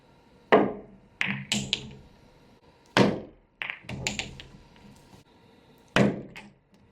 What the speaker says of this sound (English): So now I'm going to show you a few different Masse shots just from different angles.